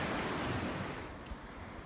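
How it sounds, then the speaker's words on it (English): A river in a mountain valley along a hiking trail gives off a steady, broadband rush of flowing water, close and continuous, with some wind noise on the microphone and no talking. "A gorgeous river."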